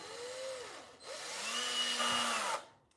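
A power drill driving a screw, with a motor whine that rises, drops briefly, then rises again and holds before cutting off. It is heard close but fairly quiet, with no talk.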